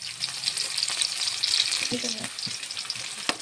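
Thinly sliced onions and green chillies frying in hot oil for a potato and pea masala curry, a soft steady sizzle with a few stirring clatters, close and quiet.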